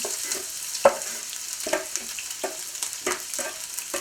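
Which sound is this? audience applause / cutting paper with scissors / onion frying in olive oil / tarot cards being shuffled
onion frying in olive oil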